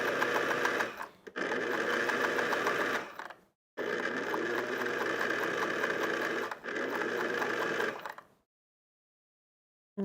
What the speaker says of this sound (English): I'm sewing right on the inside of that orange piece right there